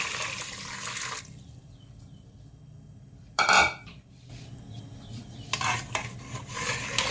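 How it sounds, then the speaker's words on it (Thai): Clean drinking water poured into a container of salt brine for salted eggs, a close splashing pour with bursts of clattering and sloshing between quieter pauses in a kitchen. "ก็จะเทน้ำลงไปให้นะ"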